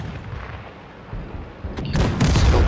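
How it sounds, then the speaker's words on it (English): An explosion in World of Tanks begins with a low battlefield rumble and scattered blasts, then swells into a loud, deep, sustained boom that rolls on toward the end. "that's a new explosion"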